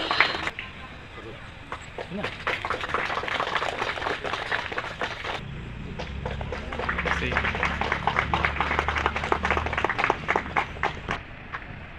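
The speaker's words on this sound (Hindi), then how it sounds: "जोरदार तालियां बजाएं" Applause at the opening of a children's traffic park in Diglipur, many hands clapping unevenly outdoors while a voice talks over the crowd.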